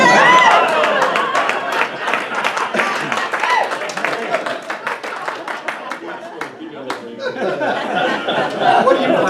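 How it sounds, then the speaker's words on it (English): A crowd claps and cheers in a burst of scattered applause, with voices shouting and chattering over it before it fades. "What are you clapping for?"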